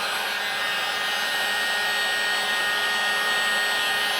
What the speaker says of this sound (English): we're going to hit this with the old Milwaukee M18 heat gun, warm it up a little bit